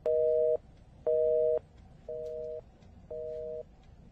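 A phone's disconnect tone beeps four times in an even rhythm, short steady tones separated by brief silences over a faint background hiss.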